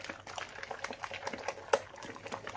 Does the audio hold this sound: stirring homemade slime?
yes